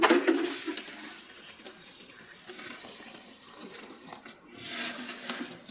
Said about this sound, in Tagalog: kailangan natin punasan ang ating sahig kasi natapunan ko ng tubig